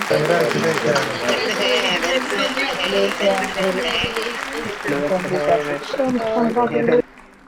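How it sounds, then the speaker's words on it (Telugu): Loud sustained applause from a crowd, steady for about seven seconds with voices mixed in, then cutting off abruptly. "గట్టిగా క్లాప్స్ కొట్టండి"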